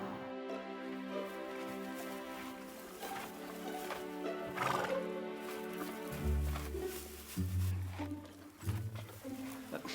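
A horse neighs and whinnies close by, with hoof clip-clops and other background sounds layered around it, and a voice briefly audible.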